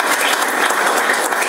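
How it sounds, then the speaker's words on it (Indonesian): Congregation applauding in a church during an Indonesian sermon, a dense, steady wash of many hands clapping at once, loud and close, with no talking over it. "Tepuk tangan untuk Tuhan kita yang biasa."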